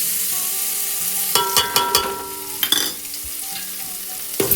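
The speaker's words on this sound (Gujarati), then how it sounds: "આપણે વેડી દીધું તેલ, જીરું નાખીશું અંદર થોડું, પછી લસણ નાખી દેવાનું છે વાટેલું" Crushed garlic and cumin frying in hot oil, a soft steady sizzle broken by clusters of metal spoon scrapes and taps against the pan, close by, over a faint background hum.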